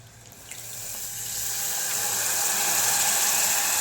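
Tamarind water poured into a cooking pan, a close liquid rush that starts light and builds into a steady, louder stream.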